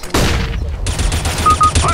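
Dense bursts of gunfire in the shooter game CS:GO, loud rapid shots crowding together over a couple of seconds with in-game effects.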